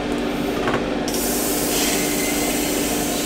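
An Iwata Custom Micron CMC Plus airbrush with a 0.19 mm needle hisses in a continuous spray, with a brief sharper burst near the start, close and steady with no talking.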